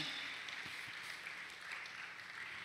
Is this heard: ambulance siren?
no